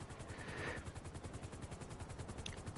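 A helicopter in GTA Online throbs with a fast, even rotor chop, close and steady over a broad whooshing roar with no voices.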